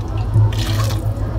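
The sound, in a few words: hot water poured into cooking pot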